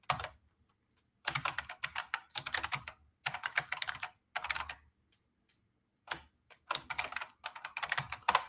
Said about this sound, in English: I'm going to type now. I'm going to type. So, trigger warning, my clicky keyboard will be heard.